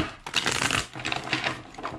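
Tarot cards being shuffled close up, with a few quick papery riffling bursts and rustles and no talking.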